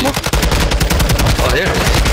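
Dense bursts of rapid automatic gunfire in a first-person shooter match, loud and continuous through the whole stretch, with crackling shots stacked close together and a brief lull near the middle.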